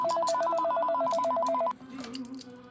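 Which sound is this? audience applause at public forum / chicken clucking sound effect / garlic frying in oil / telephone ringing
telephone ringing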